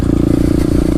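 A pit bike's small engine idles with a steady, loud drone and light rattle close by, holding an even pulse with no distinct revving over the full second.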